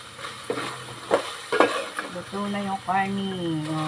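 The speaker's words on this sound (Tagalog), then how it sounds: "Yan, napipritos na." Dinuguan pork frying in a pan in a home kitchen, sizzling steadily as a utensil scrapes and stirs in a few distinct strokes, with brief voice-like tones near the end.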